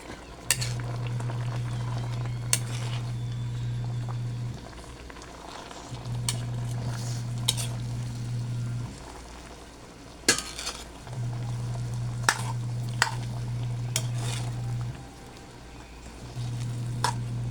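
Vegetables simmering in coconut milk with smoked fish, a soft bubbling sizzle under a recurring low mechanical hum, with a few sharp utensil clicks against the pan as the pot is stirred.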